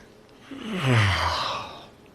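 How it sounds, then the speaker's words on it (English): A single drawn-out yawn, a breathy voiced sound sliding downward in pitch, swelling and then fading over about a second and a half. "Yawn is when you do this."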